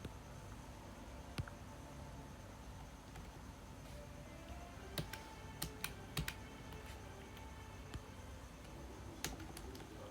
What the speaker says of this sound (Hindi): ओके मेरा कीबोर्ड चलने लग गया